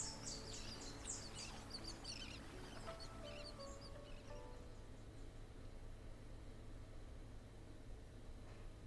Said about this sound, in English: The chirping of the birds and the sound of the waves echo on forever